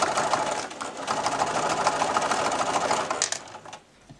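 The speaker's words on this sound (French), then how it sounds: "je vais coudre aussi l'élastique pour que ça ne bouge plus." A sewing machine stitches elastic onto a fabric protective face mask in a steady, close, continuous whir for about three and a half seconds, then stops. No one speaks.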